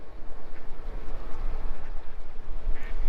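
Ducks quack a few times at a distance near a ship lock, faint under heavy, rumbling wind noise that fills the recording.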